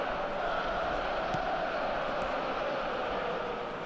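Stadium crowd noise in an eFootball video game match forms a steady, distant wash of murmuring spectators with faint swells of shouting, constant throughout.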